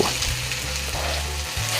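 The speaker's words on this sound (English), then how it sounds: "And the pan is hot, so time to add the chicken. Good sizzle." Chicken tenders sizzle loudly as they hit a hot pan, a steady, close frying hiss with a low crackle that swells in short bursts as the pieces settle.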